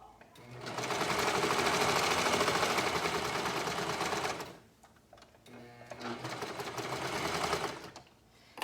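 A sewing machine stitches a swimsuit with ruffles in two close, steady bursts of rapid whirring, separated by a short pause. A voice talks faintly underneath.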